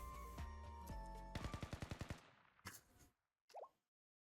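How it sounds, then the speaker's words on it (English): Video game gunfire rattles in a rapid automatic burst of about a dozen sharp shots after an opening chord of music, followed by a couple of separate bangs and a short electronic tone, all fairly quiet. "Was that gunfire?"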